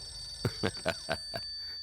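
A telephone rings indoors in five quick electronic bell-like bursts, evenly spaced and moderately loud, with a steady faint hum underneath and no talking.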